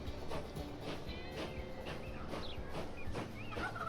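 Train running in the video game Transport Fever 2, a steady rumbling rail noise with rhythmic clatter and faint squealing tones throughout, fairly loud and continuous with no talking.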